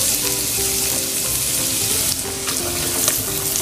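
Finely chopped onion sautéing in melted butter in a pan for pink sauce pasta, a loud, dense, continuous sizzle up close with faint stirring, no talking.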